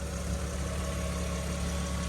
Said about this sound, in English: Engine runs very smooth.